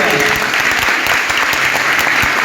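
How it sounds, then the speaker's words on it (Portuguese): An audience breaks into steady, dense applause for a city mayor during a recorded event, the clapping continuous and fairly close for a couple of seconds. "uma salva de palmas para o prefeito"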